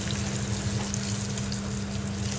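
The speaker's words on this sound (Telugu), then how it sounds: "మంచిగా వేగనివ్వాలి" Fenugreek powder frying in a pan for an ivy gourd tamarind curry gives a steady, close, even sizzle with no break across the whole moment.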